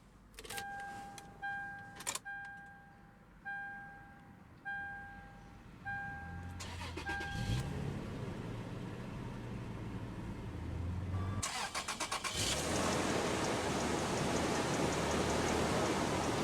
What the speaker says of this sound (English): let's go and start the engine.